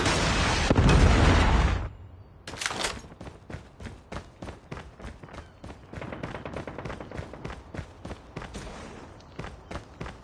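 A predator missile strike in Call of Duty Mobile lands as a loud, heavy blast filling the first two seconds, then gives way to a quick run of sharp clicks and light footstep-like taps.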